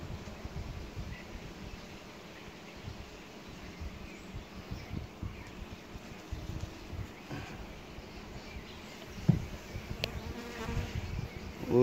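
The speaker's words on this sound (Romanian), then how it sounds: "Uite, albina." Honey bees buzz around an open hive while its frames are being sprayed ahead of wintering, a steady low hum filling the clip with scattered close passes and a brief louder burst near the end.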